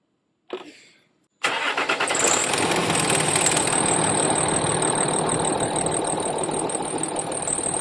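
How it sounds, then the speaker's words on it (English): A Land Rover Discovery 3 engine cranks briefly, fires and settles into a steady, loud, close idle after a fuel-pressure sensor repair. "I'm going to start the vehicle now just to make sure we're not losing any fuel."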